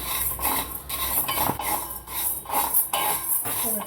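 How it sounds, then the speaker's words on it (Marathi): Rice-based potato papad roasting in a dry pan, stirred with a utensil: close, repeated scraping and clinking strokes against the metal at an irregular rhythm, with a faint crackle underneath. "असे चांगले भाजले का फुलेपर्यंत चांगले भाजून घ्यायचे, म्हणजे पापड खुसखुशीत होतात चांगले।"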